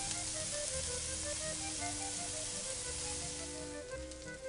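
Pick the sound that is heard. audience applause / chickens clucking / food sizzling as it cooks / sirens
food sizzling as it cooks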